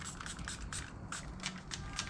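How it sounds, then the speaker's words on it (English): Soap and water sprayed from a spray bottle onto a 2024 Cadillac CT5-V Blackwing taillight before fitting a precut tint overlay, giving a run of short, close hissing bursts in a steady rhythm, with no talking. "Spray it down with your soap and water."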